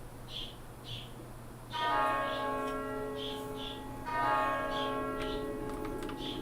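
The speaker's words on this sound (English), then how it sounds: "You hear more bells, but you're already hearing them." Bells in a video game ring in two clear peals, each a cluster of bright, sustained metallic tones over a low background hum, with lighter chiming strikes scattered throughout.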